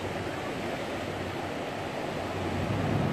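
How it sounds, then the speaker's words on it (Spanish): Ocean waves break on rocks, a steady, dense roar of surf and wash with no distinct pauses, fairly close and unbroken by voices. "Oleaje."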